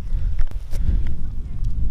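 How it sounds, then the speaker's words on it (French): Wind blows across an outdoor contest site, buffeting the microphone with a continuous low rumble and uneven gusty swells. Faint background activity sits underneath. "Bon, je pense que vous l'entendez, à l'habitude d'ici, c'est assez venteux."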